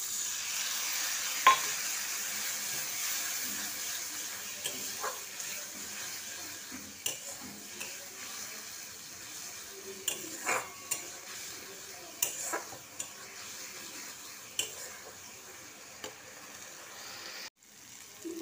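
A wet paste of chilli, turmeric, coriander and cumin sizzles in hot oil for an egg curry. A soft, steady hiss runs throughout, broken by occasional spoon scrapes and pan clinks, with a sharp knock near the end.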